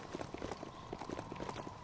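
Horned goat mount trotting in the video game Biomutant, a quick even clip-clop of hooves, moderately close and fairly quiet, with no talk.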